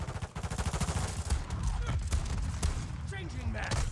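A fast series of sharp shotgun blasts in a shooter game, rhythmic and punchy at first, then scattered shots with a voice talking over the gunfire.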